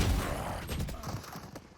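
A Vandal rifle fires in the Valorant video game, a quick burst of sharp shots with a rattling tail over about two seconds in the heat of a competitive esports match.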